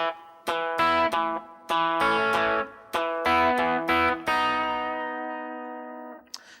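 An electric guitar plays a song's middle-section riff, with a few quick punchy chord hits that end in a long ringing chord fading out, up close and without talking.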